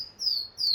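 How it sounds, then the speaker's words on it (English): A bird chirps in short, high, bright tweets, two clear calls close together, against quiet background hiss. "Isn't this bird amazing?"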